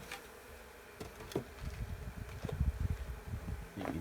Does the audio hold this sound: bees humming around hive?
yes